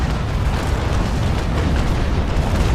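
A broadside of ship cannons firing in the naval combat game Naval Action, heard as a loud, dense, continuous rumble of overlapping booms that fills the whole stretch with no pause.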